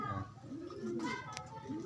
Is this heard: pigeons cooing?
yes